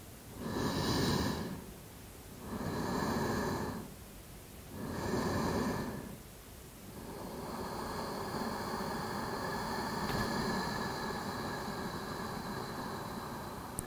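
Slow yoga breathing: three long, deep breath cycles swelling and fading in a steady rhythm, close and soft, followed by a continuous airy exhale-like hiss that holds for several seconds.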